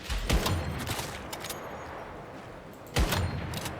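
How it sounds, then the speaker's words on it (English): Gunfire in the survival shooter game Once Human: two loud bursts of shots, one at the start and another near the end, with rattling reverberant noise between them and no talk. "now I'm being shot at"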